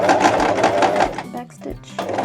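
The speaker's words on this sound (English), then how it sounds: "we're going to make our seam" Sewing machine running a seam guided along the edge of the presser foot, a steady fast whirring stitch burst close up, pausing briefly near the middle before starting again, with a voice talking over it.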